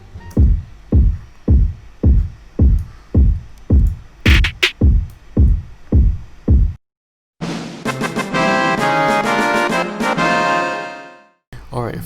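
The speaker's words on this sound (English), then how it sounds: "it's basically just trap drums" A trap drum beat thumps out steady, evenly spaced heavy kicks with sharp hits. After a brief silence, a dense, sustained full mix of drums and tones follows, loud and upfront.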